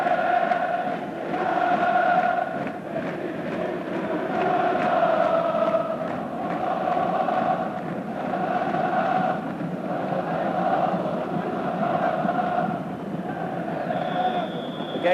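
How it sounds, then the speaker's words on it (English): A football crowd sings and roars in the stadium at a 1993/94 Champions League match between Galatasaray and Manchester United, a dense, sustained wall of chanting voices holding steady and loud throughout. "the signal for the crowd to break into song again. Just listen to the noise"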